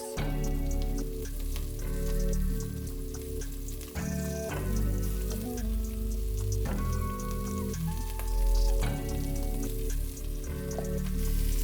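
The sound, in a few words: meatballs frying in a pan for albondigas soup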